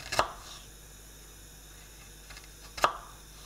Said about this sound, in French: on va découper le gingembre en petits feuillets comme ça